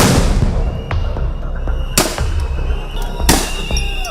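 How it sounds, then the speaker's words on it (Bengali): Sound grenades bursting as police break up a student procession at Dhaka University, heard as sharp loud explosive cracks at about two and three seconds over dense crowd noise and rumble. "মিছিলে সাউন্ড গ্রেনেড, রাবার বুলেট ও কাঁদনে গ্যাস নিক্ষেপ করে পুলিশ"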